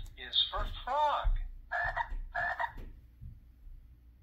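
Frogs croak in a short series of three or four raspy calls, close and fairly loud, with a low rumble beneath.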